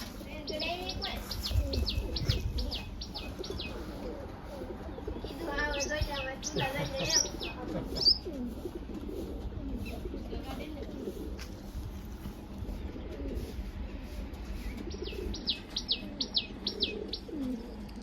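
Pigeons at a village pigeon setup coo softly among chirping birds, with a repeated high twittering call near the start and end and a brief flutter midway.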